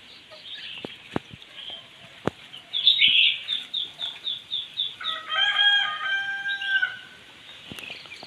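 A pet pheasant kept at a rural home gives a run of repeated harsh calls and trailing clucks, fairly close and loud, over quiet background with a few sharp knocks.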